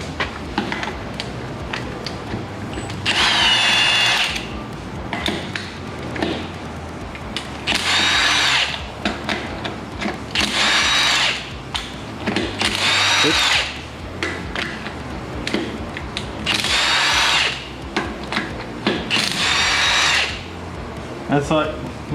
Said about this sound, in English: This is a nice rattle gun.